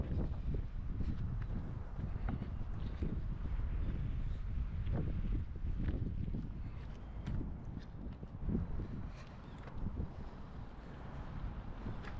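Steady, loud wind buffets the microphone in a dense low rumble on a cold, sunny day outdoors, with gusts rising and falling throughout and no clear voices.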